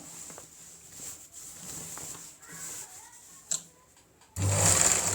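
A zig-zag sewing machine runs a straight line of stitching, its needle whirring in a steady close mechanical drone, then briefly louder and faster at the end, with no talking.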